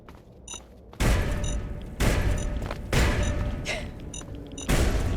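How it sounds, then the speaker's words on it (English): Several big booming explosions in Fallout 3's The Pitt roll out one after another about a second apart, each a loud broadband blast with a rumbling tail, chaining up behind the player on a bridge. "Just a chain reaction of explosions behind me"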